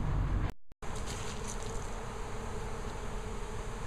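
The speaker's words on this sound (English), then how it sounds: "the number of bees has increased dramatically, and they are beginning to swarm and gather right at the corner of our front porch" A swarm of bees gathering at the corner of a bookstore's front porch gives a steady, dense buzzing hum that carries on unbroken apart from a brief dropout near the start, with no talk.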